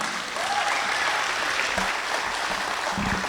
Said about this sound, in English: give a very big round of applause for our inspection department